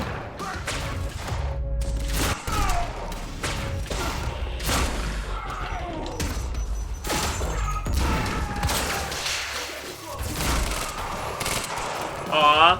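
A semi-automatic shotgun fires again and again in Quantum Break, loud booming blasts coming in quick irregular bursts over clattering action and rumbling combat noise for the whole stretch.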